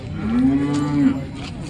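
A single loud, close cow moo at a cattle market, a long low drawn-out call lasting about a second, over faint background noise.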